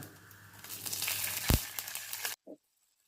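Sesame seeds, cumin and curry leaves sizzle in hot oil in a pan: a bright, steady hiss with one sharp pop, then the sound cuts off abruptly.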